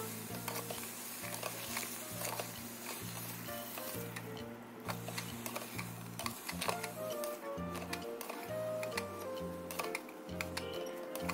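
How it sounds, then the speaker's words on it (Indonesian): Shallots, garlic and napa cabbage sautéed with white soy sauce and stirred in a pan, giving a steady close sizzle with rhythmic clicking and scraping throughout, no talking. "Aduk rata agar bawang dan sawi menyatu."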